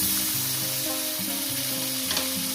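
Whole garam masala, cumin and tomato frying in oil for a vegetarian Bengali dish, a constant sizzle under a steady tonal hum, with a brief stir partway through.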